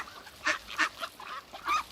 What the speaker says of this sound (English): But it's just me and the ducks for now.